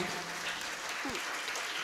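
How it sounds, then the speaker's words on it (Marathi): Scattered applause from an audience at a Marathi kirtan, a comic devotional performance, giving a short continuous patter of clapping with a brief voiced sound in the middle. "टाळ्या वाजू वाटल्या तर वाजवीत जा बरं का"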